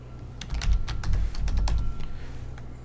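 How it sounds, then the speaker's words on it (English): Rapid bursts of keystrokes on a computer keyboard while programming a PLC, clustered clicks with brief pauses between runs, close and moderately loud with no talking. "I typed it in the wrong place. I typed it in the symbol."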